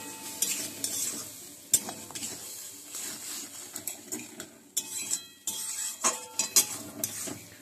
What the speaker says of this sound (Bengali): এবার খুব ভালো করে আমি মিশিয়ে নিচ্ছি।